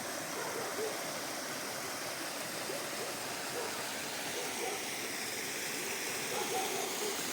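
A little-known waterfall at Kamianka, Ukraine, gives a steady, broadband rushing roar of falling water, constant and fairly distant with no clear voices over it.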